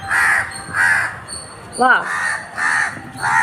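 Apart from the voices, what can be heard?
crows cawing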